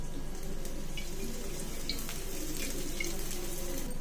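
Oil is poured around an onion uttapam cooking on a hot pan, giving a soft, steady, hissing sizzle that stays faint and even throughout, with no voices.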